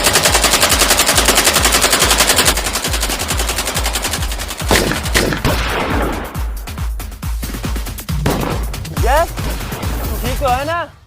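Rapid machine gun fire in a Hindi film parody, a dense, loud stream of repeated shots lasting several seconds, then scattered bursts and crashes with voices and whooshing effects over it.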